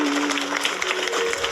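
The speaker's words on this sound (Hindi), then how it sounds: "सदन तालियां बजाए, अच्छी तालियों के गड़गड़ाहट के साथ स्वागत।" Audience applause fills an assembly hall, a dense, steady wash of clapping hands that holds at an even level throughout, with a faint sustained tone running beneath it.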